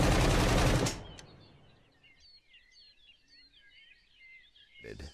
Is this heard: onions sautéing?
no